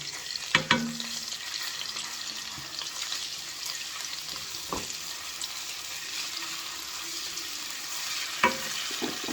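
A steady, soft sizzle of ginger garlic paste frying in a pan, with a few sharp clinks of a spoon against the pan.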